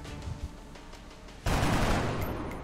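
A gunshot in the video game XCOM: Enemy Within, with faint shots early on and then a sudden loud burst of fire that holds steady to the end, with no talking.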